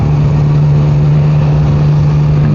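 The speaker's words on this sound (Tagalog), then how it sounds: "ang Tracer kasi medyo malaking motor na rin, maingay compared sa mga maliliit na mga motor" A Yamaha Tracer motorcycle engine idles steadily and close by, with a constant low hum and no change in pitch throughout.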